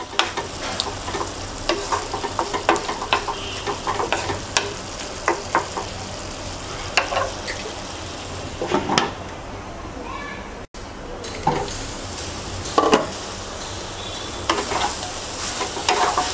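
Pointed gourd and potatoes cooking in a pan over medium-low heat, a steady sizzle with frequent clattering stirs and a voice in the background.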